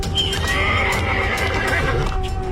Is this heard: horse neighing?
yes